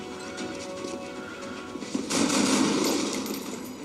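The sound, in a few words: gunfire shot in the video game XCOM: Enemy Unknown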